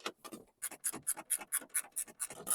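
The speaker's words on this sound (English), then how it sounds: "I need to just reach under with this ratchet spanner" A ratchet spanner being worked under an MG sports car, a quick series of sharp, close clicks in an even rhythm after a couple of softer scrapes.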